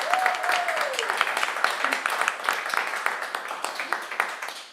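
Live audience applause for a folk musician at a radio show performance, a dense, steady clapping crowd with a brief whoop or voice rising early on, sustained at an even level.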